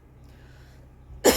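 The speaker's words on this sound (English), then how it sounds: "Sorry, I've got this lingering cough." A single short, sharp cough bursts out near the end after near silence, close to the microphone.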